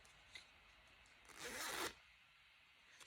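A single quick zip pull on a Coats & Clark Yarn Zip zipper, a short raspy burst lasting about half a second, quiet and alone in an otherwise still room.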